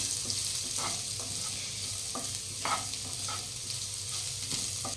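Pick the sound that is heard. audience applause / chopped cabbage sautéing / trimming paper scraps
chopped cabbage sautéing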